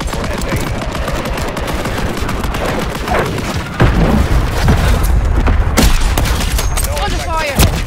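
Rapid automatic gunfire and heavy booms in a Call of Duty Modern Warfare III multiplayer match, loud continuous bursts that intensify midway, with voice callouts under the shooting.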